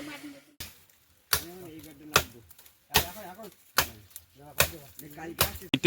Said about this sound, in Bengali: অনিমেষ কয়েকটা বাঁশ এই রাস্তার সাইড থেকে কেটে দিচ্ছে